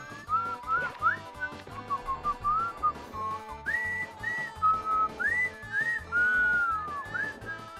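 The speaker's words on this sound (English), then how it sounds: "Sorry for whistling so much" A person whistles a melody from Super Mario 64 in bright, wavering tuneful phrases, with a backing of rhythmic game music and percussion underneath the whistling.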